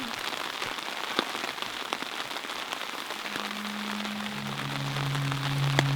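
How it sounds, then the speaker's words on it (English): Heavy rain falls during a wilderness lake trip in the far north, a dense, steady hiss of drops striking surfaces, with a low droning hum rising partway through. "It's coming out heavy, and we might get up to 50 millimeters, which is quite a bit of rain."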